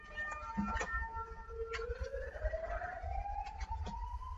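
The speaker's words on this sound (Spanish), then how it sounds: "Con la sirena." A police car siren wails in the distance, its tone rising slowly and steadily, faint beneath a low rumbling background with scattered small knocks.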